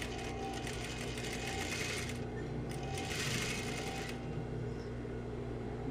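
A sewing machine runs a second seam joining a tulle skirt to its base fabric, a steady close mechanical whir with fast stitching chatter that briefly surges in speed, with no voices.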